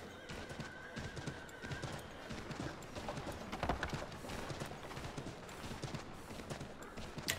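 A horse gallops with steady clip-clop hoofbeats and gives a clear whinny, in the Assassin's Creed III Remastered video game, with a busy background of game sounds layered beneath.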